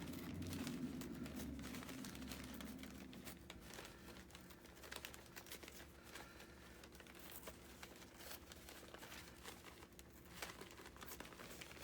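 A corner torn out of a printed book page, faint, close crinkling and ripping of paper that goes on in small irregular bursts throughout, with no talking.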